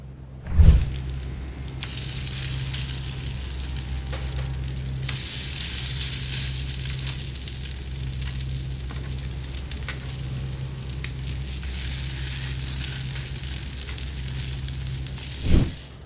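Potato pancakes and sunny-side-up eggs sizzling on a Pit Boss griddle, a steady close hiss of frying with a low hum underneath and a couple of soft knocks at start and end.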